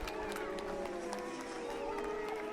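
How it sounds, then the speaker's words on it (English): A large crowd at a Pro Sport Bike National Championship motorcycle race at Autodrome St-Eustache, Quebec cheers and roars steadily after the winner takes the checkered flag, a dense distant wash of voices. "And a huge response from this crowd."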